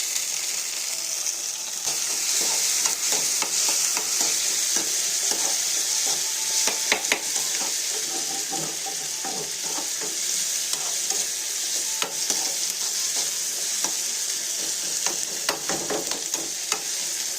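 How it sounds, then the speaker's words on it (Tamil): Small onions and green chillies sauté with spices in a pan for a mutton pepper curry: a continuous loud sizzle with frequent scraping stirs of a spoon, close, with no one speaking. "வெங்காயம் அந்த பச்சை மிளகாலாம் ஓரளவுக்கு நல்லா வதங்கி வந்துருச்சு"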